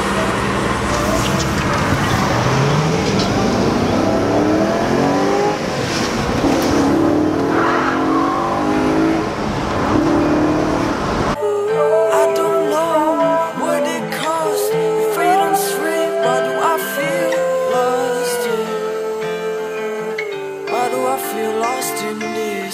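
A BMW E36 M3 drives on a canyon road, its engine revving and tires squealing loudly; midway the scene cuts to a different, more tonal stretch of steady engine and road noise.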